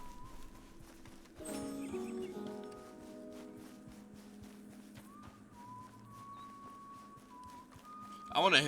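A horse in a ranch roleplay video game clops along with hooves, whistles and game sounds around it, then gives a loud, close whinny at the very end; a voice speaks briefly.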